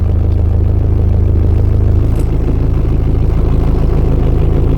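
A tractor engine runs steadily at idle right after starting on a cold day, a low continuous loud rumble with no talk over it.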